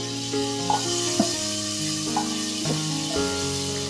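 Tempering spices fry in butter while being stirred: a continuous, moderately loud sizzle with light spoon taps and scrapes at irregular intervals, close up, with no talking.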